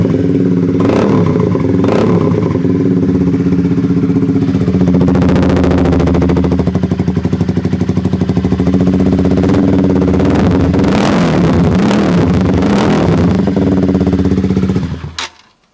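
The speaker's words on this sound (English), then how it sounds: "So the exhaust is now on. It looks pretty good, so let's give it a start and see how it sounds." A Honda CBR 125 motorcycle, a second-generation twin-headlight model fitted with a new aftermarket exhaust, idles with a steady, loud, raspy note, blips its revs repeatedly in short bursts, then cuts off abruptly at the end.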